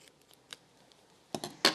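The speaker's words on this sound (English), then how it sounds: "We're going to cut the neck off of your balloon with your scissors." A few sharp snips of scissors cutting the neck off a rubber balloon, close and crisp, the last two louder than the first light clicks, with quiet pauses between.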